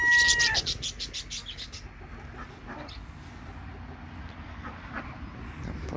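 Backyard hens cluck near a coop at the start, a short loud burst of bird calls that quickly fades into quieter scattered sounds outdoors, with no talking.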